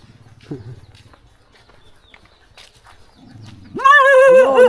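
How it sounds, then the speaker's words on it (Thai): A horse on a rural Lao farm gives a loud, shaky whinny of about a second near the end, after quiet stretches with soft hoof and snorting sounds. "มีแต่ม้าเนาะเลี้ยงม้าหลาย"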